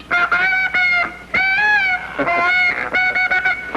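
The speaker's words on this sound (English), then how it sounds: "the great Canadian goose swings its way overhead" Several Canada geese honk loudly in ragged bursts as they pass overhead, the nasal calls overlapping with short gaps between them.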